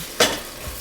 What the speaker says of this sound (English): We want that sizzle